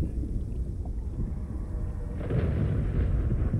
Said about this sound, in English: That storm is back.